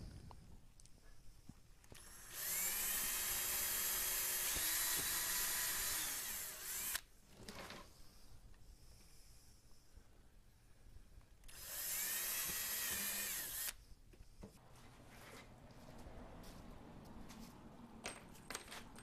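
A power drill drives long screws into a wooden board on a homemade TV antenna in two loud, sustained bursts of high whine, each lasting a few seconds, separated by quieter handling sounds.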